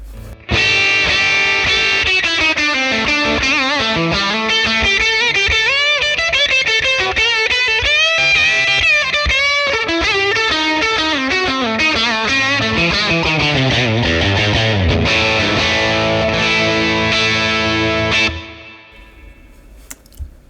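An electric guitar played through a 1966 Fender Blackface Bassman amp with the reverb turned up rings out in sustained, overdriven chords and bends with a lingering wash, then stops abruptly near the end.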